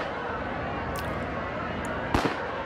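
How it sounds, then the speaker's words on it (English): Firecrackers thrown during a riot in a video game, a few sharp pops and crackles over a dense, steady din of crowd and game noise, with one louder burst near the end. "let's just firecracker the hell out of these guys"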